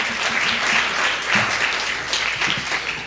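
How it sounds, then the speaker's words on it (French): An audience in a CEGEP auditorium applauds the candidates at a 2021 Canadian federal election debate, producing loud, steady, dense clapping with a slight swell in the middle. "je vous invite à les applaudir."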